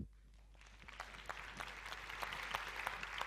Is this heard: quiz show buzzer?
no